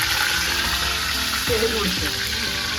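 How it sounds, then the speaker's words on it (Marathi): Curry leaves, cumin and mustard seeds crackle and sizzle in hot oil for potato bhaji, a dense, steady frying hiss with scattered pops, close and loud, with a voice talking over it. "तर तुम्ही बघू शकता आपलं कढीपत्ता जिरा मोहरी अशी छान तडकायला लागलेली आहे"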